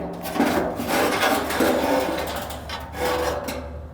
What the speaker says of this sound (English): it's time to take out the stone